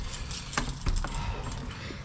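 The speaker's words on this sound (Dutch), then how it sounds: "Jullie horen ook dat ik continu met mijn sleutels bezig ben." A bunch of keys jangles and clinks in short bursts while someone unlocks a front door to get inside, close and fairly loud over steady background noise, with no talk.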